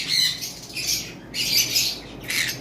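Pet tame birds, a male and female pair, give repeated loud harsh squawks in three bursts, close by with no talking.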